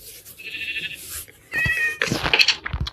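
A sheep bleats in a video game, several short nasal bleats in bursts separated by brief pauses, loud and close with no talking over them.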